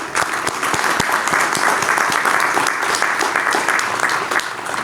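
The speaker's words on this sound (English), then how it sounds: "Let's give them another round of applause." Sustained applause from a crowd for a concert band at a Memorial Day event, steady clapping filling the whole stretch without voices.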